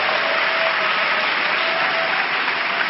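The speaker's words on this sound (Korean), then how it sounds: "우리 감사의 박수 한번 하시겠습니다." A church congregation claps in thanks, a dense, even wash of applause that fills the sanctuary and holds steady throughout.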